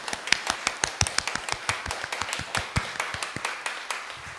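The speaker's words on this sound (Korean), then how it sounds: "먼저 우리 하나님 앞에 감사의 박수를 드릴까요?" A congregation at a dawn church service claps in thanks with a steady, evenly spaced beat of sharp hand claps that carries on without pause and stays moderately loud.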